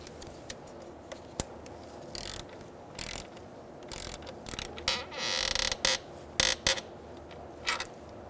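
A ratchet tightens the intake manifold bolts on a 2000-2007 Ford Taurus 3.0L V6, with sharp isolated clicks followed by rapid bursts of ratcheting, close up and loud, with no talking.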